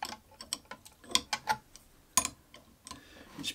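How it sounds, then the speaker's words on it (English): A CNC 3018 PRO spindle collet being tightened with 14 mm and 17 mm spanners gives off a series of close, dry metallic clicks and ticks, irregular in timing, with one sharper clack near the middle. "you'll need two spanners to secure it in place, a 14 and a 17 mil"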